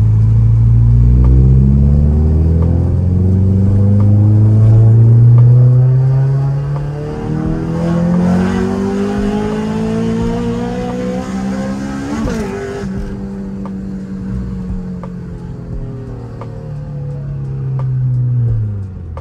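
The engine of a 1996 Honda Civic EK hatchback revs through its stock exhaust muffler, rising and falling in several loud, close sweeps with a deep rumble and no talking over it.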